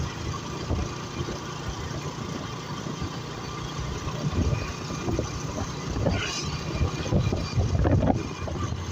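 A motorbike rides along in third gear during a training ride, its steady engine drone blending with heavy wind rumble against the microphone and swelling slightly toward the end.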